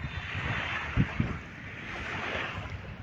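Sea waves washing onto the shore at Dolomite Beach in Manila, a steady surf hiss mixed with wind buffeting the microphone and a couple of brief low thumps, no voices.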